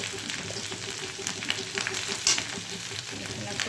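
Potatoes and okra fry in a pan with a steady, fairly soft sizzle and crackle, broken by a few brief stirring clicks and scrapes.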